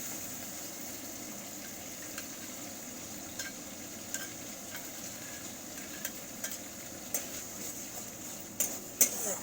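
Spice paste for a katla fish curry sautés in a pan, giving a steady low sizzle with scattered small clicks and scrapes toward the end; nobody talks.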